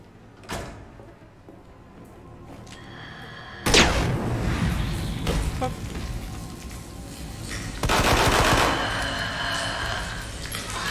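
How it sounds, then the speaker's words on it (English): A cowboy gun fires in Resident Evil 2 during a modded Claire B run, with a sharp blast followed by loud, dense, sustained gunfire and crashing noise, and a second burst later. "One flame round and unload with the cowboy gun."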